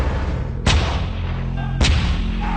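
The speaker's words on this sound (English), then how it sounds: "155mm howitzer." Archer 155mm self-propelled howitzer firing, two heavy booming artillery shots about a second apart, loud and close, each with a long rumbling tail over a steady engine drone.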